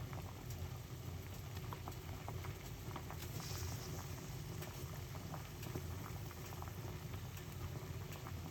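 Herbal tea for blood pressure boils in a pot, a steady low bubbling and rolling simmer with faint patter and occasional small pops, continuous and moderately close, without any talking.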